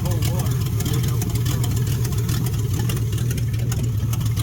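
A 1969 Chrysler 300 street machine idles with a cold engine on its first start after long neglect, giving a steady, close, low rumble that runs unbroken throughout.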